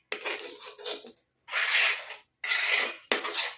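Thick homemade hair paste mixed with rice starch water being stirred in a bowl, heard as four separate close, wet, scraping bursts with short silent gaps between them.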